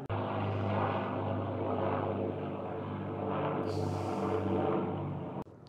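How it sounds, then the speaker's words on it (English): An Avro Lancaster bomber, a four-engine propeller aircraft, drones loudly overhead above Niagara Falls, its steady low engine hum and propeller roar holding near constant throughout before cutting off abruptly. "We were rudely interrupted by the Lancaster bomber, which right now is just flying right over Niagara Falls"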